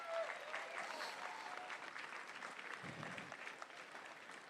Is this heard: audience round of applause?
yes